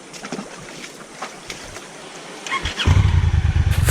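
A boat engine starts up: faint background noise, then a loud, throbbing motor rumble that kicks in near the end and keeps running.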